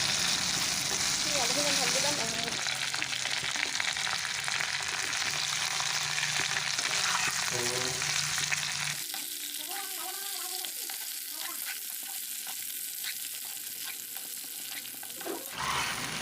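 Potatoes frying and sizzling in a pan with meat for pulao, a steady loud sizzle throughout with occasional stirring scrapes and a brief shift partway through, no talking.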